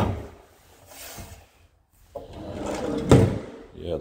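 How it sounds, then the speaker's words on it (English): Kitchen drawers in a rental home are pulled open and pushed shut, giving several wooden slides and thumps, one sharp clack near the end, close and moderately loud with a voice briefly heard. "I'm gonna walk back to the kitchen again and check some of these drawers"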